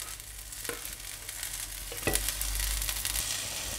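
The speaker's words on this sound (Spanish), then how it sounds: "Añadimos la verdura triturada" Blended vegetables drop into hot oil in a pan for arroz con pollo with peas. A steady sizzle jumps louder midway as they hit the pan, then the frying holds in a strong, continuous crackle.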